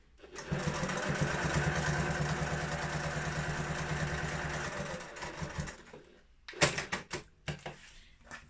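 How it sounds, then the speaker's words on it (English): Domestic sewing machine stitching the side pieces of a fabric bag together at a 1 cm seam allowance, a steady close whirring run for about five seconds, then short stop-start bursts of stitching. "I'm literally just going to sew these together, and I'm going to do these with a 1 centimetre seam allowance"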